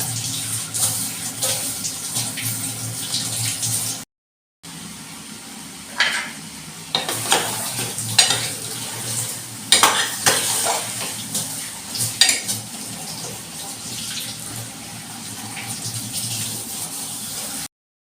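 A pan of pea and potato dry curry simmering and bubbling steadily with a soft sizzle, near and continuous, with a few light clinks and stirring noises and a brief gap.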